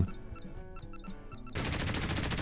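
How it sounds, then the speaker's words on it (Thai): A warship in the naval combat game Modern Warships fires its guns and missiles, with quick metallic shots first and then a dense roar of rapid gunfire and launches, loud and continuous with no voices over it. "ดูที่มันจะยิง อ๋อ มันหันยิงรอบที่ได้เองด้วย ปล่อยมิสไซล์เองด้วย"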